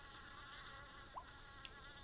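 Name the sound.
bee buzzing in an iPhone video game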